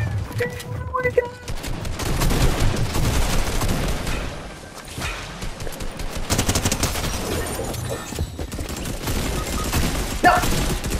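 Rapid bursts of Fortnite gunfire, including a hand cannon, crackle in dense volleys with booming hits, continuing throughout with a voice occasionally breaking in.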